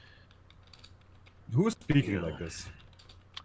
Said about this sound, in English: That's me typing as usual.